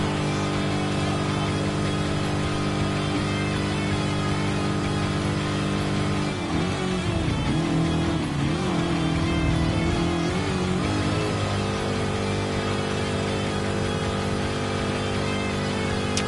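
Corvette race car engine in a racing video game, a steady harmonic drone that swells into a louder rising rev mid-clip before settling back, with no talk.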